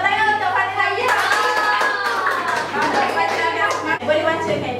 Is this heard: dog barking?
no